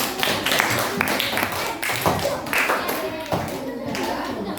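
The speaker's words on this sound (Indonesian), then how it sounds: "Tepuk tangan untuk semua kelompok." Schoolchildren in a classroom clap together for all the groups, loud, close, rapid clapping from a small group, irregular and lively, with children's voices mixed in.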